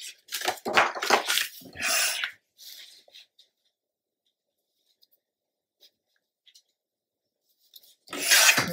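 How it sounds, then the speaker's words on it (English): Paper layer for a mini album page being trimmed, a few close bursts of scraping and rustling cuts at the start, then near silence with faint ticks and another scrape at the end. "So I'm going to trim that down real quick."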